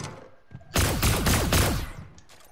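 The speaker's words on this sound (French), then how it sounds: "J'entends des coups de feu." A rapid burst of gunfire in a Star Wars roleplay scene, heard as loud, clustered booming shots that swell for about a second and then fade into softer, scattered echoes.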